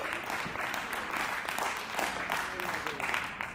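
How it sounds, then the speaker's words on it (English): Audience applause at a South African colloquium as a panel moderator is called to the stage: steady, moderately dense clapping from a hall crowd, fairly distant and even, with some voices mixed in. "Please can you give Ms. Annabelle Ladete a big round of applause."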